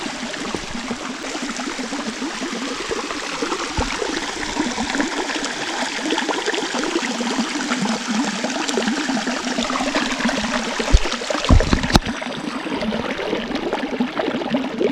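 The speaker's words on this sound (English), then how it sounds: "right here you can see how that water has cut that narrow channel right through this stone" A woodland stream flows through a narrow channel cut into stone, giving a continuous close rush and splash of water with a few brief louder knocks near the end.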